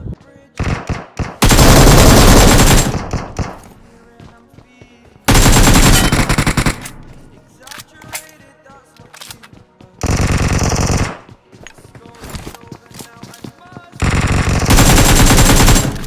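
Bursts of automatic gunfire in the mobile game BGMI come as loud, sustained volleys, four long strings separated by quieter stretches of scattered single shots and game sounds.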